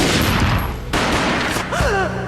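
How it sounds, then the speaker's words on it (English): Gunfire in the PC action game Max Payne: dense, loud shots and blasts filling the scene, a sharp cut, then a cry-like tonal sweep over continued noisy rumble. "A gunshot boomed and she fell down in slow motion."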